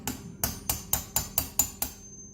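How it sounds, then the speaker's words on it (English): Hammer tapping a stubborn pin out of a J180 receiver during takedown: about nine sharp, evenly spaced metallic strikes roughly a quarter second apart, close and clear with no talk. "so I'll have to use the hammer here"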